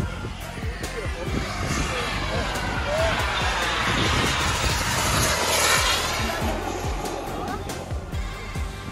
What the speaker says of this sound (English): Okay, this airplane.